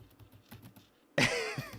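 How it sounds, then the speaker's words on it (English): Rapid clicking on a computer keyboard continues for about a second, then a voice cuts in over it. "The typing is crazy"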